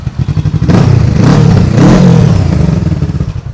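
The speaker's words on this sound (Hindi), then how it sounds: "बाइक में लगा हुआ है स्कॉर्पियन कंपनी का 1 लाख से भी ऊपर का एग्जॉस्ट" Kawasaki Z650 naked motorcycle fitted with a Scorpion aftermarket exhaust, revved loud and close in two sharp throttle blips that climb and fall, with engine rumble and clatter running throughout.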